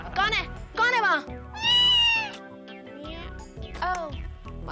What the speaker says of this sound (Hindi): ओह, मतलब बिल्ली।